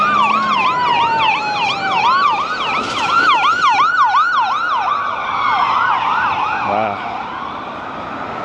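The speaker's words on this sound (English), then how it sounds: "And there's sirens." An ambulance siren wails in a rising and falling pattern as it passes along a street in Innisfail, Australia, loud and near, then fades with a brief tone change; one person speaks briefly.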